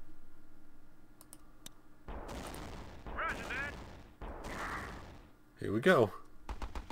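A gun turret opens fire in the Battle Islands: Commanders video game, firing several loud bursts of rapid shots in quick succession, with brief speech and faint clicks in between.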